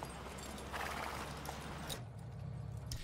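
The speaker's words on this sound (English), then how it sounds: "back to CGI carts and horses" CGI horses pulling carts in an anime, with clear clip-clopping hooves and a whinny over a steady rolling rumble of wheels, close and continuous.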